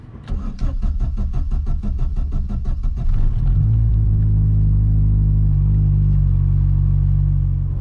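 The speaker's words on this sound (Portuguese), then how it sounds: "a bordo de um carro incrível, o famoso Calibra do Anderson." An Opel Calibra drag car at the Velopark event near Porto Alegre: a rapid starter crank for about three seconds, then the engine catches and settles into a loud, deep, steady idle rumble close by.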